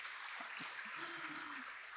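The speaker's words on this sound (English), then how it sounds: "Let's give these people a round of applause" An audience applauding couples celebrating a wedding jubilee, a steady wash of clapping across the room with a voice speaking briefly over it.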